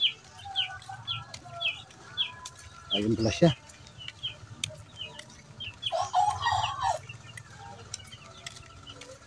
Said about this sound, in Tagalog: Daming manok ah.